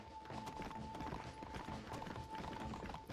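Horse hooves clip-clop in the Western video game Red Dead Redemption on Xbox 360, a steady galloping patter that stays very faint and distant under a soft background drone.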